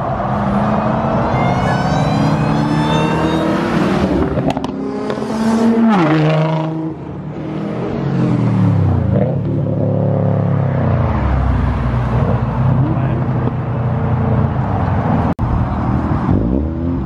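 Turbocharged car engine revving hard and hitting the rev limiter at a car meet, loud close roaring sweeps up and down in pitch with stuttering limiter bursts.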